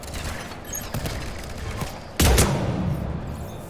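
Gunfire in the Mass Effect Legendary Edition video game, a busy combat din with scattered shots and one sharp, loud blast near the end over continuous background noise.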